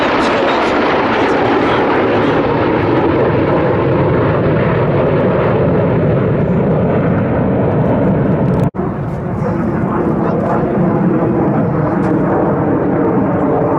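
Red Arrows jet aircraft fly a display at the Sywell 2024 air show, producing a loud, continuous roar that holds throughout, broken by one brief sharp crack partway through.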